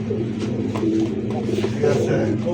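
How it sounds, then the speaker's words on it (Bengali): Domestic pigeons at a pigeon seller's cooing with low, throaty rolling calls that repeat through the moment, set against steady background chatter and market noise. "কবুতরের ডাক দেখেন"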